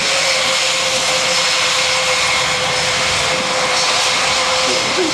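An Airbus A350 airliner flying overhead gives a steady, loud, broadband jet roar that holds evenly for the whole stretch, with no talking.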